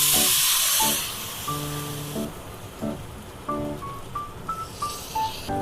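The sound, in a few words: water poured onto roasted semolina hissing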